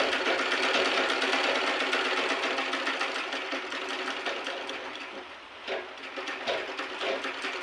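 Electric sewing machine stitching a child's frock with a thin lining, a steady close whirring hum running without pause, easing slightly near the end.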